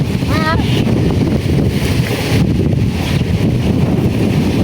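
Strong wind buffets the microphone in a continuous roar, with a brief voice-like sound early on.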